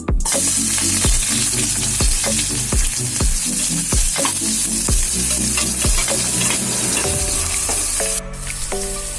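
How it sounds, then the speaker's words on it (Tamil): Onions hit hot oil in a pressure cooker for a mutton liver fry, a loud continuous sizzle punctuated by regular scraping strokes of a ladle against the metal, about one per second, with the frying dropping slightly near the end. "எண்ணெய் சூடாயிருச்சு. இப்ப வெங்காயம் போட்டுக்கலாம்."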